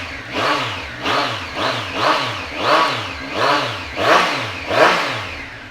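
A 2018 Triumph Street Triple 765 RS three-cylinder motorcycle engine revs repeatedly in a steady rhythm, about eight rising-and-falling throttle blips, loud and close with a rough idle between.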